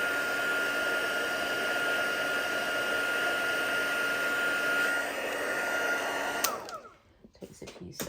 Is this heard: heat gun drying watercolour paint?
yes